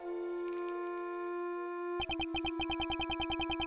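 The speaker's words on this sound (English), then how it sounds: "His appearance was always announced by the sound of bells." Bells chiming in the video game Ace Attorney Investigations 2: a sustained ringing tone with a high shimmer, then a rapid, even train of repeated bell strikes.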